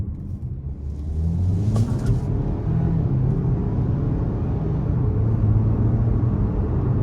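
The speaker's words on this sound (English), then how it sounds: "I'm gonna put it in the sport mode and I'm just gonna give it a little bit of throttle" A 2023 Ford Escape Platinum AWD with the 2.0-liter turbo engine, in sport mode under light throttle, accelerates with a steady, loud engine rumble that holds and builds gently throughout, heard from inside the car.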